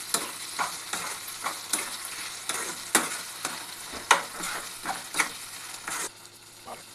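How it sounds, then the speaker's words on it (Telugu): Tomatoes frying with mutton curry in a pan, a steady sizzle broken by repeated scraping strokes of a spoon stirring every half second or so, close and alone. "ఇప్పుడు ఇందులో టమాటాలు యాడ్ చేసుకుందాం. యాడ్ చేసుకున్న తర్వాత దీన్ని కూడా ఫ్రై చేద్దాం."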